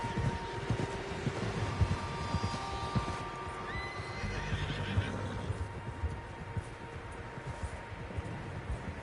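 Horses neigh and whinny in the video game Red Dead Redemption 2 while hooves clip-clop over a low, steady rumble of background noise.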